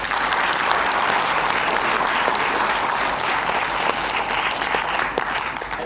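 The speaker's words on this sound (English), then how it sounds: "A big round of applause for the Industry Interaction Committee for making this event a huge success." Sustained, loud applause from an audience at a student finance-themed event at IIM Amritsar, a dense even wash of clapping that holds steady throughout with no voices above it.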